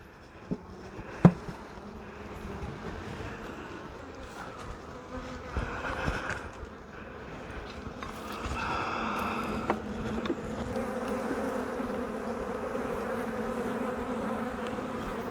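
Honeybees hum steadily during an inspection of hives in an apiary; the buzz stays soft and constant, with a few sharp handling knocks early on and a fuller swell of buzzing after about eight seconds.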